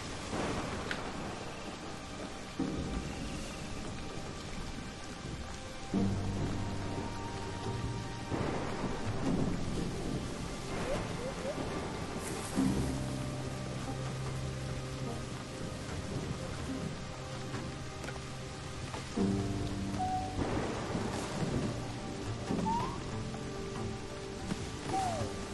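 Thunderstorm with steady rain in the Gibbon: Beyond the Trees video game, a constant wash of rainfall broken by several heavy rolling thunder rumbles, with sustained musical tones underneath and no speech.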